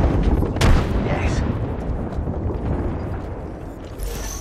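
Gunfire and heavy impacts in the Apex Legends video game, a loud burst early on followed by continuous rumbling, rattling combat noise that gradually thins out.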